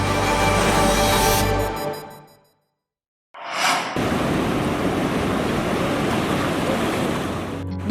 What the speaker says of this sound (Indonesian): Deburan ombak bergulung